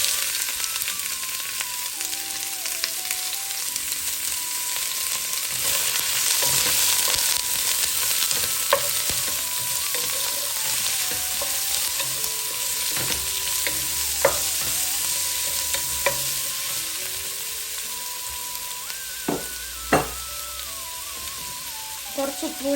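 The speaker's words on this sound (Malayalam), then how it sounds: "എണ്ണ ചൂടായിട്ട് നമുക്ക് അരിഞ്ഞു വെച്ചിരിക്കുന്ന സവാള ഇട്ട് കൊടുക്കാം" Chopped onions fry in hot coconut oil, a steady close sizzle running throughout with occasional stirring clinks and scrapes of a spoon against the pan. No one speaks.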